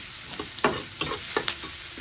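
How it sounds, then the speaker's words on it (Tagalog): Onion and garlic sautéing in a pan, soft sizzling under several sharp scraping stirs of a utensil in quick irregular succession, close and fairly quiet. "itigigisa natin dito sa sibuyas bawang"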